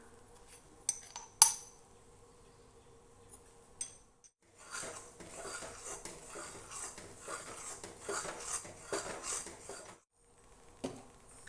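A spoon scrapes and clinks against a pan while Ashoka halwa is stirred with ghee. Scattered metallic taps come first, then a longer stretch of continuous scraping and rubbing, close and quiet, with no voices.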